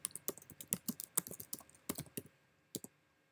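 Comments being typed on a computer keyboard for an expense entry: close, irregular bursts of crisp key clicks that slow to a few isolated taps near the end.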